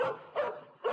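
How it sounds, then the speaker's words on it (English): A dog barks three times in quick succession as a sound effect in an audio story, with loud, close yaps evenly spaced and no talking. "That's my dog, Rocky."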